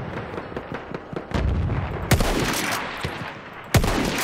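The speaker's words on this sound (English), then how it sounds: "they're shooting at me" Gunfire in the Battlefield 1 video game: scattered sharp shots crackle throughout, with two louder, closer blasts standing out over a continuous rumbling battle background.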